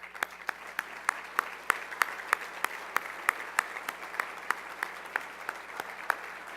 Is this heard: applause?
yes